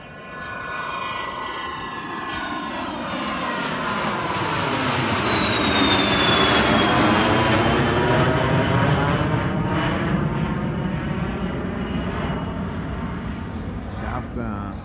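A Citation private jet taking off from a runway, its engine roar swelling from a distant whine into a loud, sustained rush with a falling pitch as it climbs past, then holding steady as it departs.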